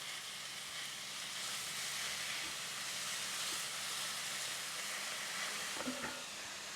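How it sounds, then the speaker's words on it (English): Ground beef browning in a pan gives a steady, moderately loud sizzle and hiss that runs unbroken throughout, with a few faint clinks near the end. "we're going to brown our ground beef"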